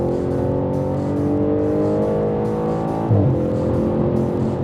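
Audi RS5 with a naturally aspirated 4.2 V8 and S-Tronic paddle-shift gearbox, engine droning steadily loud and close, with a sharp, quick gear change and rev blip partway through.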